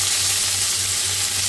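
Chicken sears in a wide cast iron skillet for fajitas, a close, steady crackling sizzle with no talk.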